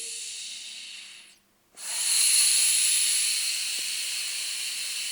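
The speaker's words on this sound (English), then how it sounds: "when you are opening one segment, you can actually also hear that is air cushioned" Air-cushioned segment of a Raubay TT480 tripod sliding slowly, giving a loud, steady breathy hiss that pauses briefly, then resumes for several seconds before cutting off.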